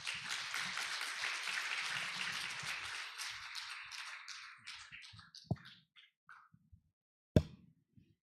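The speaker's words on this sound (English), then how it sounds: "Please welcome him with a big round of applause." An audience at an international patent court conference applauds to welcome the court president, dense steady clapping that fades into scattered claps, followed by a sharp thump near the end.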